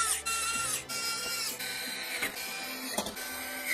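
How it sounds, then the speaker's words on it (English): Motherboard screws being driven into an MSI MAG Pano micro-ATX case during a PC build: a series of close, whirring motorized bursts with pitched tones, repeated several times in quick succession. "let's go ahead and install the rest of our motherboard screws"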